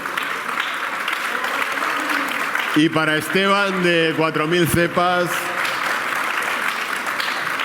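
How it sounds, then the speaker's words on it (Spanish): Applause at a tasting of organic products at the Ecocultura fair runs throughout, with a voice talking over the clapping in the middle. "O sea que un aplauso para Jonathan también."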